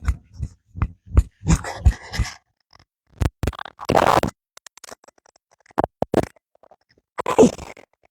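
A pet dog named Jinko makes a string of short, sharp bursts in a quick rhythm early on, then scattered scuffs and rustles, close by outdoors with no voices.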